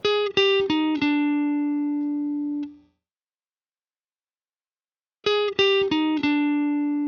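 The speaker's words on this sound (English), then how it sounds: "The next sound that I added was this guitar melody that I played on my electric." An electric guitar plays a short melodic phrase of plucked notes with a sustained final tone, then falls silent before the phrase repeats. Clean, warm, no voices.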